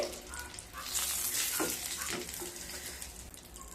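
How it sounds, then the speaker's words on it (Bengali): Eggs frying lightly in hot oil in a pan for Bengali dim posto, a steady close crackling sizzle with some stirring and spatter bursts, without talk. "ডিমগুলো হালকা ভাজা হয়ে গেছে, এবার তুলে নেব।"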